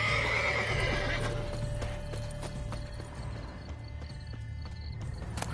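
A horse in The Witcher 3 gives a loud neigh and whinny up close, then its hooves clip-clop in a steady rhythm over low game ambience.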